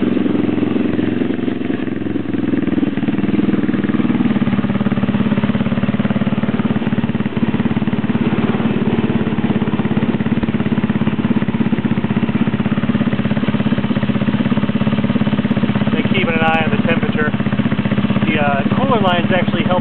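Rebuilt two-stroke engine running smoothly and still smoking on two-stroke oil, a loud continuous low droning hum close by, with someone talking over it near the end.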